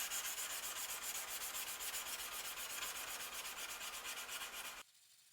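Steady hand sanding of a small kitchen knife blade with 400 grit paper, a continuous close, rhythmic abrasive rasping of quick strokes that cuts off abruptly near the end, with no talking.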